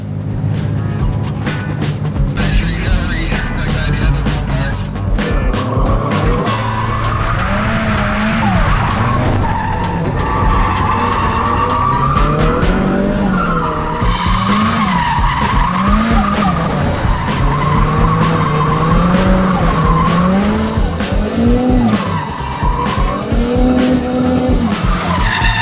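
Loud engine revving and rising and falling while tires squeal continuously through long drifting slides on a track, close by and sustained throughout.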